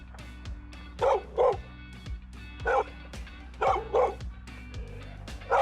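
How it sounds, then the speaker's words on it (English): A dog barks repeatedly in high-pitched pairs and singles, fairly close, over a low steady hum. "then if they are more excited, they might go and bark in a high-pitched voice and more frequently"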